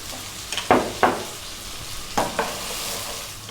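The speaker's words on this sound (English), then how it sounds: "Now I will put my pumpkin in for a high heat and cook for 5 minutes." Pumpkin pieces fry in coconut oil with cumin seeds over high heat, a constant close sizzle punctuated by a few scraping stirs of a spoon against the pan.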